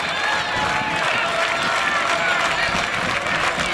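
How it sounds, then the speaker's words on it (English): A baseball crowd at a HarbourCats versus Falcons game cheers and claps in a steady, loud wash of noise, with an announcer talking over it. "Crowd back into it."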